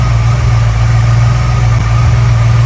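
A 1964 Ford Galaxie engine idles on a run stand, a loud, steady low rumble with even pulsing and no breaks from start to finish.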